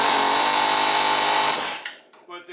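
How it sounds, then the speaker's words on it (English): An air chisel hammers a spindle bearing out of a mower deck with a loud, continuous buzzing rattle that cuts off abruptly near the end, leaving brief quieter sounds. "but the air chisel is much easier"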